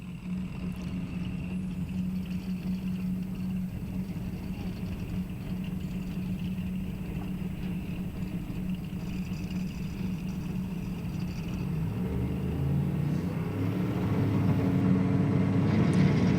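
Drag racing engines at the start line of an eighth-mile heads-up race, a 69 Camaro and an S10 pickup, rumbling steadily and then swelling louder and rougher as they spool up toward launch.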